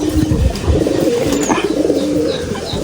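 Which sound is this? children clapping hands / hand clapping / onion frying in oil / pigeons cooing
pigeons cooing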